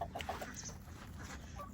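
Chickens and roosters in a farmyard pen clucking in short, quiet bursts at close range over a low background hum, with no talk.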